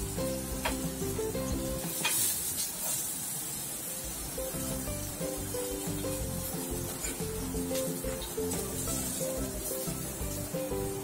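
Chicken tikka pieces fry in a pan with a steady, loud sizzle and crackle that runs the whole time, joined by occasional scraping as the pieces are turned; no one speaks.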